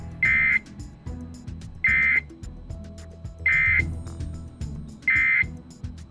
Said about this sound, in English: The unit evacuation alarm has short intermittent tones.